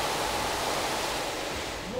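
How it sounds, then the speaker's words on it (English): In the Dead Space video game, a water filtering cycle runs as a steady, dense rushing hiss like pouring water, even and moderately loud, without talking. "filtering cycle initiated. That's what water sounds like?"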